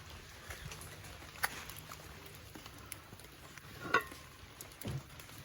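Saltfish frying in a pot outdoors in the rain, a faint, steady sizzle with a few soft clinks and taps of a utensil, quiet and close with no talking.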